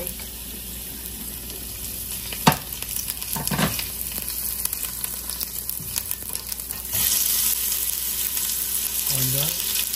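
Garlic sizzling in about two teaspoons of olive oil for chicken molo soup, a steady frying hiss throughout with brief stirring clatters and a louder burst of sizzle near the end.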